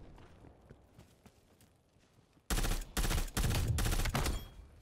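Gunfire from Black Ops Cold War, open beta desert map: after a quiet stretch of faint background sound, several loud rapid bursts of shots erupt close by in quick succession.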